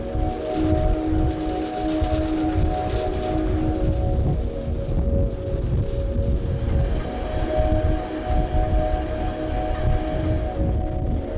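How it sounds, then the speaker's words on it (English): Fast freight train rolling past near a Vienna station, a loud continuous rumble and clatter of wagons with steady tonal whine, close and sustained, no talk. "some super quick freight trains"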